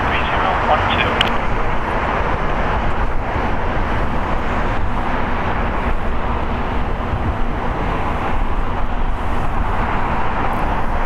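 A 21-year-old United Airlines Boeing 737-8 departs Los Angeles International Airport for Chicago, its loud, steady jet roar filling the clip without pause.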